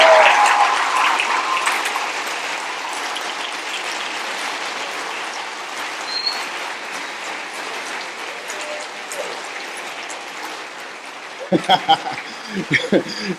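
A conference audience at a tech summit applauds in a long, dense wash of clapping that holds steady for several seconds, then tapers off, followed by a few scattered loud claps.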